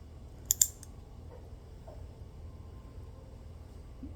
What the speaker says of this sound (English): I'm gonna have to use human clippers for it